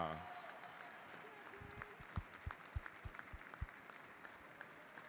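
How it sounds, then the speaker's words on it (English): Applause from a crowd at a Lexus Velodrome race night, a spread of clapping beneath a voice, with several sharper claps standing out near the middle. "All right, round of applause."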